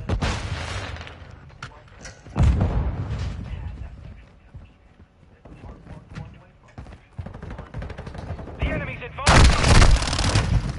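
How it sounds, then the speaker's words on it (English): Call of Duty match with a flash grenade and bursts of gunfire, loud repeated shots and booms throughout, a big detonation near the end, with a voice talking over the action. "Throwing flash grenade!"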